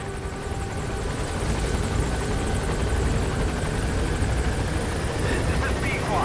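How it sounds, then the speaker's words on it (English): A helicopter in the Metal Gear Solid V video game hovers with a loud, steady rotor thrum and engine whine, continuous and close throughout. "I just realized this helicopter's never gonna go away."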